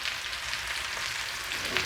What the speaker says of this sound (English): We are frying the chicken.